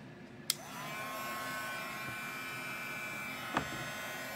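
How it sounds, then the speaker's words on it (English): A hair dryer runs as a steady, moderately loud whir for several seconds, bracketed by two sharp clicks as it switches on and off, with no talking. "And I'm going to use the dryer too."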